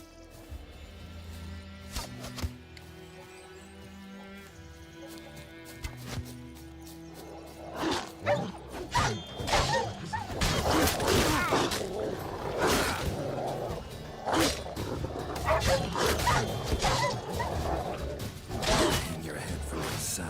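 A pack of stray dogs in The Witcher 3 snarls and barks in loud, overlapping bursts after a quieter musical opening, the aggressive growls and yelps crowding together near and constant.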